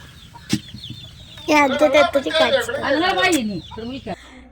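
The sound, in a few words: chickens clucking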